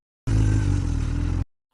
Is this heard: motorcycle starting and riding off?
yes